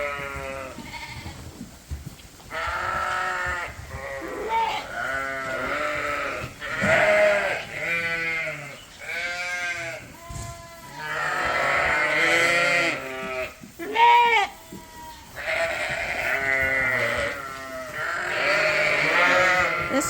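Suffolk sheep and lambs bleat inside a barn, many overlapping calls from near and farther off, some long and wavering, others short, repeating almost continuously.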